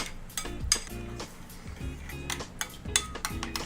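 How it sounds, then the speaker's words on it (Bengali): A spoon stirs chili sauce and honey in a bowl for a chicken hot wings glaze, giving close, rhythmic scraping and clinking against the bowl. No one speaks. "এবার এটাকে ভালো করে মিশিয়ে নেব।"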